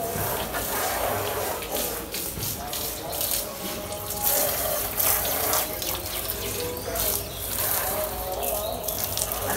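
Water runs from a tap during a Shimga festival gathering in Malgund village, Konkan, a steady splashing rush that lasts throughout, mixed with background clatter and voices talking nearby.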